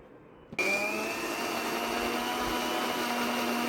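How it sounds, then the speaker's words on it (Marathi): A motorized mixer grinder blending muskmelon juice starts abruptly after a click and runs at a steady, loud whine until the end. "नंतर घेऊया मिक्सरला लावून"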